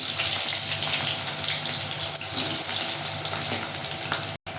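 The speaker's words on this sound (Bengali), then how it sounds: "ফার্স্টে আমি দিচ্ছি কুচিয়ে নেওয়া আলু" Chopped potatoes going into a hot pan for vegetable sabu polao give off a continuous, close, hissing sizzle with a watery, gushing edge that cuts off briefly near the end, with no voices.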